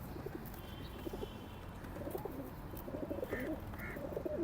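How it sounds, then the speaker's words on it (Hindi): Pigeons cooing at a Sunday pigeon market in Lalukhet, Karachi; soft repeated low coos rise over a constant crowded market hum, fairly faint and unhurried. "ये कबूतर है भाई नर, और ये है मादा इसकी।"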